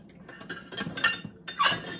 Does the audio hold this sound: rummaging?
yes